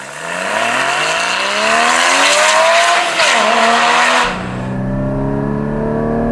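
A Porsche Cayman GT4 accelerates hard through the gears, its engine wailing upward in rising sweeps with a quick dip at a shift, loud and close, then settling into a lower steady drone as the throttle eases.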